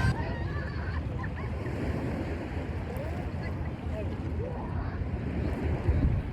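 Sea waves wash in along a shore in Nagoya, a steady rushing surf roll with wind buffeting the microphone, while a person talks over the water noise.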